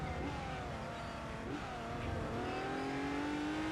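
A race car engine in the Gran Turismo 3 video game revs and climbs steadily in pitch as it accelerates, a continuous whining drone with no one speaking over it.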